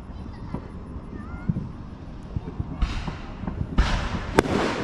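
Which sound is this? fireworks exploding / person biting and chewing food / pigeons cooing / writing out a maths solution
fireworks exploding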